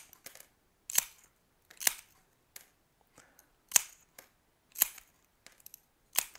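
Ceramic mosaic tiles nipped into circles with tile nippers: sharp, separate snapping clicks, about seven loud ones spaced roughly a second apart with fainter ticks between, close up with no talking.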